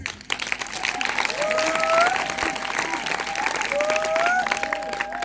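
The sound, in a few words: audience applause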